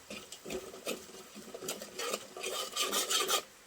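Masala being mixed into a crab curry: a series of close, gritty scraping and rubbing strokes of a spoon through a thick mixture in a pan, irregular in rhythm and fairly quiet, with no talk.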